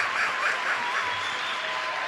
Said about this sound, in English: I gotta watch a bunch of Republicans clapping